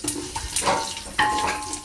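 Mustard seeds sputter and crackle in hot oil, a close sizzle broken by quick irregular pops.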